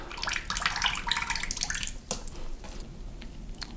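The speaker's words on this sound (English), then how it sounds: "you probably want to drain that water out. Keep the lid on, kind of press that excess water out." Salt water being pressed and drained out of a package of fresh wild crab meat with the lid held on, a splashing trickle and drips into a sink, close and fairly loud, then thinning out.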